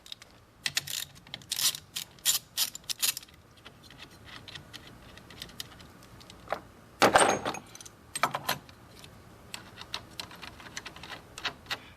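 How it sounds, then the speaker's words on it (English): A wrench tightens a terminal nut on a 2018-2024 Buick Enclave or Chevy Traverse car battery, making bursts of close metallic ratcheting clicks separated by short quiet pauses, with no talking. "And go ahead and tighten that, and then also tighten our terminal over here as well."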